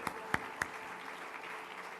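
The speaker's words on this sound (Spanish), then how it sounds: "¿Por qué no le da un fuerte aplauso a ese Cristo maravilloso?" A church congregation applauding, a steady, fairly distant wash of clapping with a few sharper individual claps standing out near the start.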